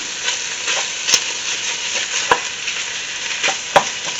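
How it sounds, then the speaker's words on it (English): Onions and carrots sautéing in Italian sausage juices in a pan for lasagna soup, a continuous close sizzle with a few sharp scrape or stir clicks at irregular intervals. "we're going to throw in the onions and the carrots and let them cook up"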